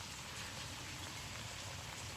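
Steady, soft hiss of rain falling on a rainy day in a home garden, continuous and even, with no talk.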